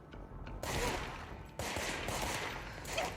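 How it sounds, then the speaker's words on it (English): Gunfire from the action video game Control, a broad crackling burst starting partway in and a second sustained volley after a brief dip, fairly loud and continuous with no talk. "Yeah, no, definitely hearing more gunfire."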